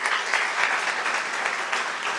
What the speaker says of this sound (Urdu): ان کے لیے تالیاں جائے گا